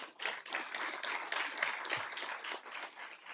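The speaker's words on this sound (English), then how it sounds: "give them a round of applause" Scattered applause from an audience at a State of the City address honoring the city's merged police, fire and emergency services, fairly faint and uneven with individual claps standing out.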